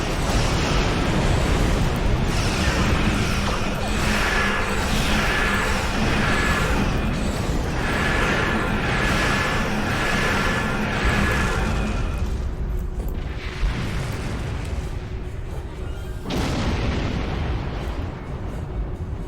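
Starship weapons batteries in a Star Trek Online space battle fire in dense repeated volleys amid booming explosions, a loud continuous barrage that thins out briefly before surging again.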